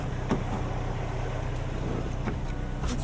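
A 2025 Toyota 4Runner Platinum drives along with a steady engine and road rumble heard from inside the cabin, plus a few faint clicks and knocks.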